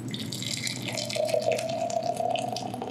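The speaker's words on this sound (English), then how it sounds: "We're going to take our boiling water and we're going to pour it into our mason jar." Boiling water poured into a glass mason jar, a steady splashing trickle with a rising liquid fill tone, close and moderately loud.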